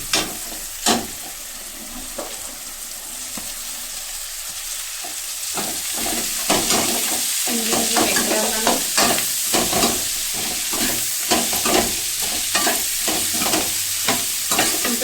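Okra frying in hot oil in a home kitchen for bhindi sabzi, a steady sizzle broken by repeated scraping clacks of a spoon stirring through the pan, close and continuous with no talk.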